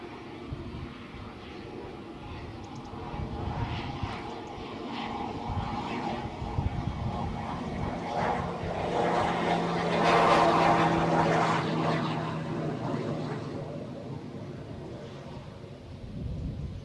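A Dornier propeller aircraft at Guernsey Airport drones in a low rumbling roar that builds to a peak and then fades, heard from a distance in the open air.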